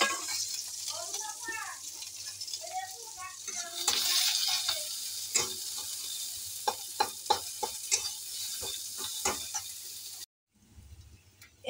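Chopped onion hits hot oil in a wok and fries with a steady sizzle, broken by stirring scrapes and clicks, while someone talks over it.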